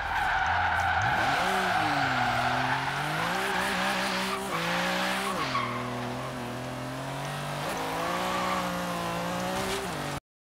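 A car in Forza Horizon 3 drifts on a wet road, its engine revving and wavering up and down while tires squeal and skid continuously, loud and sustained.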